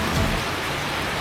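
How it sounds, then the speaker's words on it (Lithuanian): Rain falls outdoors on an October day, a dense, even hiss of drops on surfaces filling the short moment without any voices. "lyja, tegu lyja"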